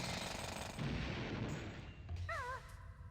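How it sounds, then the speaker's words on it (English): Kazooie drilling a rock in the video game Banjo-Tooie, a harsh rapid rattling burst like a jackhammer, loud and continuous, ending with a short warbling tone. "We'll drill this rock."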